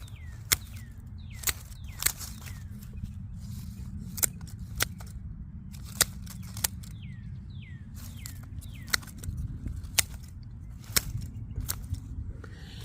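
Pruning shears snip back perennial plants in a garden bed, sharp distinct clips coming every second or so. Birds chirp in the background and there is a rustle of foliage, with no speech.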